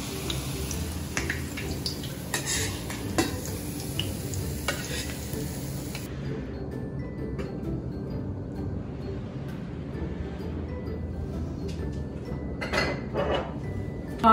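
Resha kababs being coated and placed into a frying pan, giving a steady sizzle with scattered clinks and stirring clatter nearby, no talking.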